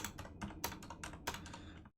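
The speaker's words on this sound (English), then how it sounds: "Oh god, typing this out is gonna suck." Fast typing on a computer keyboard, a quick run of crisp clicking keystrokes close up, ending abruptly after about two seconds.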